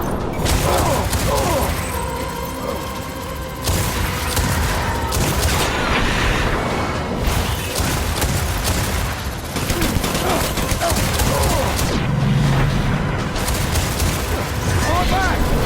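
Heavy gunfire in the video game Death Stranding: dense, continuous bursts of automatic fire and booms rattle on without pause, loud and close, with game voices shouting orders at moments.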